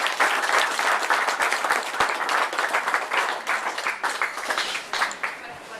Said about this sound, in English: big round of applause for Richard Slatter.